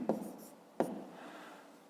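Pen writing digits by hand on paper during a fifth-grade maths exercise, two short close scratchy strokes followed by a faint trailing scrape, quiet and without talk.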